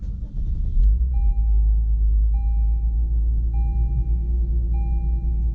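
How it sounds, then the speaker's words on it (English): A Lexus IS350 F-Sport AWD starts up and settles into a steady, deep idle rumble. Soft, evenly spaced electronic chimes sound over the engine throughout. "If we start the car,"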